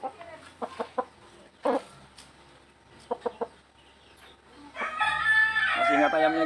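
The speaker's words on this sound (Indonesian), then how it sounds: "Ini ayamnya guys." A chicken recovering from snoring clucks in short sharp bursts, then crows loudly and close near the end, with a faint voice in the background.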